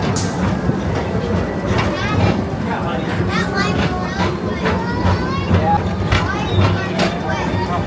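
Tomorrowland PeopleMover ride vehicle rolling along its elevated track, a steady rumble with faint clicking over a continuous bed of crowd voices and chatter throughout.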